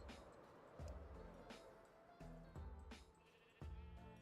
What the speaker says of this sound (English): you can kind of see the sheep through the sides, right?